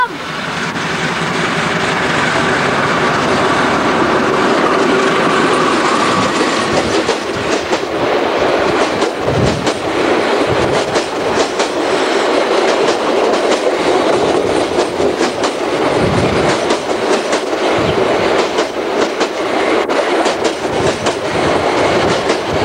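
Heard from onboard a long-distance passenger train in Indonesia, the train rumbles loudly along the rails with a continuous roar and occasional rhythmic clatter of wheels over track joints.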